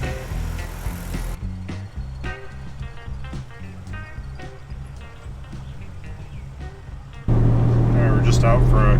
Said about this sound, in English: just out for a quick cruise just to see how the Jeep's doing